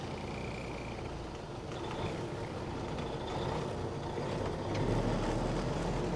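A Peterbilt 359 truck engine labours in a tall gear, producing a steady, rumbling drone that builds slightly in loudness toward the end, with no talking over it.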